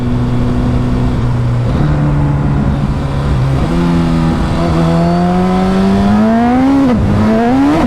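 Loud 2022 Suzuki Hayabusa modified 1600cc engine revving near the listener, pitch holding then climbing in rising surges with a couple of quick drops between shifts.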